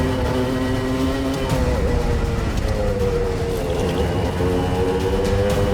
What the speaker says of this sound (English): there is a kart quickly approaching from behind, putting on quite the pressure